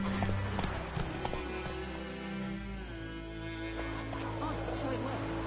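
Roach, a horse in The Witcher 3, gallops in steady clip-clop hoofbeats, with game music and a voice over them.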